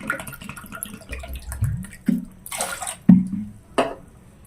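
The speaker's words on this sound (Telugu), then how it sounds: "ఇప్పుడు 1 కప్పు పెసరపప్పుకి నేను 2 కప్పులు నేను వాటర్ పోసుకుంటున్నాను." Water is poured into a vessel of washed moong dal, giving a few short close splashes and glugs in separate bursts with quiet gaps between.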